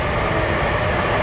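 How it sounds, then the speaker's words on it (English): A train passes near a fishing spot on a gusty day, a steady loud rumble filling the whole moment with no break, wind noise likely mixed in. "Sorry about the train,"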